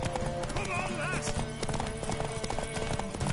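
Rhythmic hoofbeats clop along with a brief whinny, set in a busy soundscape from the game The Witcher 3: Wild Hunt with voices talking over it.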